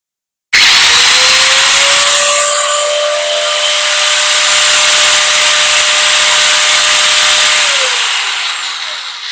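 A DCK KSM13-100 angle grinder runs without load, starting abruptly and holding a loud, steady high-pitched whine for about nine seconds before it begins to wind down.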